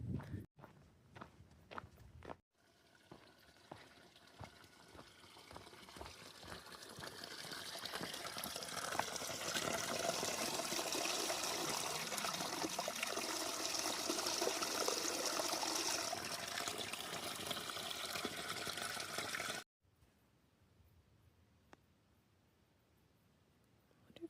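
Water trickling at a trail water source off a road along the Pacific Crest Trail near Mt. Shasta, a steady close splashing flow that swells in the middle and cuts off abruptly, with faint footsteps around it.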